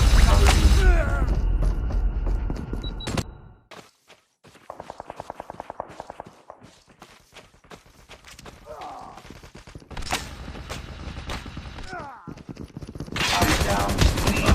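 Video game gunfire, with bursts of rapid automatic fire and mechanical clatter, alternating with quieter gaps, and a game voice calling out over parts of the action.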